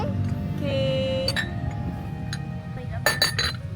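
Glasses clink together in a celebratory toast during a family picnic in a hotel room, with bright chinks early on and a quick cluster of clinks near the end, heard over ongoing voices and background noise.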